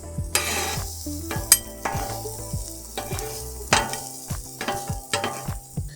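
Butter melting on a hot Blackstone flat-top griddle, with loud steady sizzling broken by repeated sharp scraping and tapping from a metal spatula close by; no voices.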